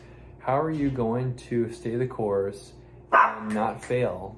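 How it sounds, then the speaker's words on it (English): A little Pomeranian named Happy gives several short, high yapping barks close by, interrupting a man's speech. "This is our little Pomeranian"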